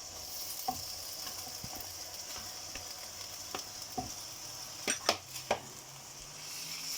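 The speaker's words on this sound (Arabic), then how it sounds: "صافي ونبداو نحركو في هادشي، ندخلو الزبيب والبصله مع الرز" Fried onions and raisins being stirred into cooked rice in a pot make a steady low sizzle, with scattered scrapes and a few sharper clinks of the utensil near the end; no one speaks.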